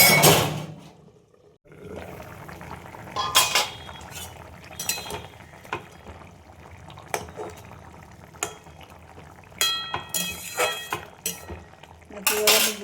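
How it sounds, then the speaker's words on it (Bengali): A cook handles a pot of boiling tengra fish curry and covers it with a lid, giving metallic clinks and scrapes over a low bubbling simmer and several sharp knocks near the end. "এবার ঢাকা দিয়ে দেবো।"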